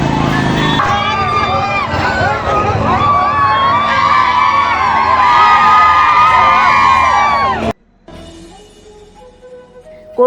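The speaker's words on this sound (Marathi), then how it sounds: "कार्यकर्त्यांचा प्रचंड जल्लोष शहरात पाहायला मिळाला" Party workers in a city street cheer an election victory as a loud, dense mass of shouting voices that cuts off abruptly near the end, leaving quieter background noise.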